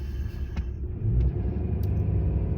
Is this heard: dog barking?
no